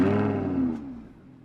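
An Audi R8 engine just after a warm start, a brief deep roar from close by that falls in pitch and settles into a quieter idle within about a second.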